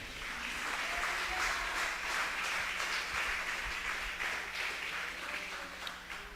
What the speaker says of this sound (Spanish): Dele un aplauso fuerte.